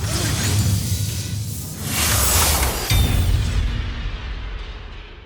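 Layered sci-fi sound design for Terminator Dark Fate: loud whooshes, mechanical grinding and booming impacts swell and surge over about five seconds, with a sharp hit midway and a thinning tail.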